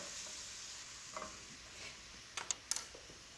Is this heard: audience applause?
no